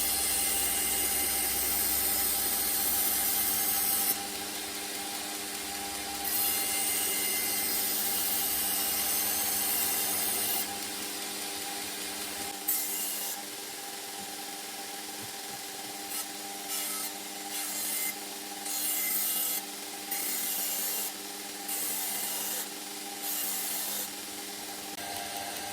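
A CPM154 steel knife blade is worked with 400-grit abrasive, giving a steady, close rasping scrape that runs continuously and then breaks into shorter strokes with brief pauses, no voices.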